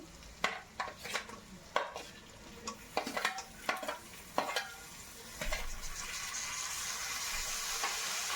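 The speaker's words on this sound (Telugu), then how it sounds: "ఉల్లిపాయలు మగ్గినాయండి తర్వాత టమాటాలు యాడ్ చేసుకుంటున్నాను" Tomatoes tip into onions softening in a pan for a shahi paneer gravy: a run of sharp spoon and pan clacks, then a steady close frying hiss builds and holds to the end.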